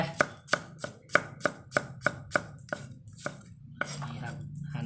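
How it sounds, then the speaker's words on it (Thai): Steady rhythmic knife chopping garlic and chili on a cutting board, a dozen or so crisp close strikes that slow and soften toward the end. "นี่ครับพริกเสร็จกระเทียม หั่นไป"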